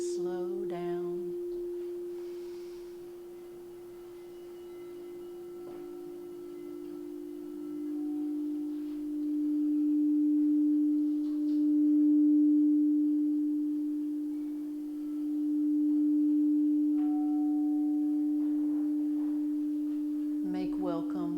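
Singing bowls ring out in a calm healing meditation session, one sustained, pure humming tone swelling and fading gently over about twenty seconds, with faint brief strikes or rubs at the start and end.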